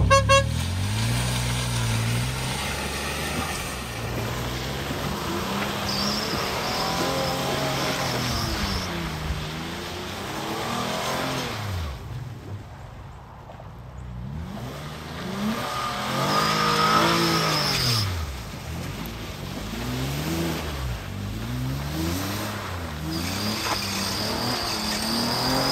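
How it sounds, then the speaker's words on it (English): A Hyundai Santa Fe with all-wheel drive churns through mud, its engine revving up and down in repeated rising and falling surges, loud and close, with brief lulls between bursts. "let's see how good this actual all-wheel drive works in the mud"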